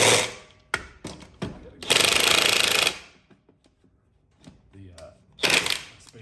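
Mechanical ratcheting and clattering bursts from a wrench tightening lug nuts on a Jeep wheel, loud and close, with a long sustained grinding burst in the middle and another near the end, separated by quieter clicks under occasional talk.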